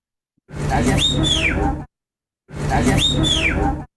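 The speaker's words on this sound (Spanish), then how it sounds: "algo que nosotros llamamos chiflido, por ejemplo, el sonido muy corto" Two short whistles from a sound map recording, each about a second and a half long, with a pitch that bends up and then falls away. They are separated by a brief silence and carry a low hum underneath.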